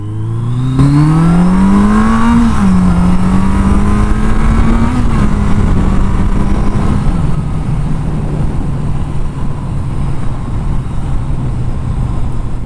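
A 1982 Yamaha Seca XJ650 motorcycle accelerating in first gear, the engine note climbing loudly, dipping at a shift, then holding a steady drone with wind rush, close throughout.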